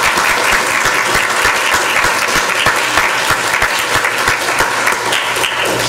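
Loud, dense applause from a large audience at a global debate event on record labels, a steady wall of many hands clapping throughout with no gaps, close and full.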